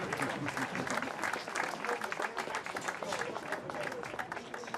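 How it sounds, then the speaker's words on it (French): A crowd at a cycling stage race ceremony applauds the organising committee members, a thick continuous clatter of many hands with faint voices mixed in, holding strong throughout. "vous pouvez les applaudir une nouvelle fois"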